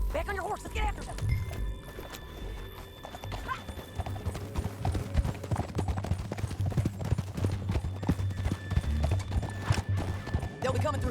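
A horse gallops in Red Dead Redemption 2, its hooves drumming in a quick, steady clip-clop rhythm up close for the whole stretch, with a whinny and some in-game voices mixed in.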